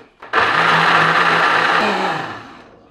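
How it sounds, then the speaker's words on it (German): A kitchen blender purees soaked soybeans with water for making soy milk and tofu, starting with a click, whirring loudly and evenly for about two seconds, then winding down. "die Hälfte der Bohnen mit 500 Milliliter Wasser schön fein püriert"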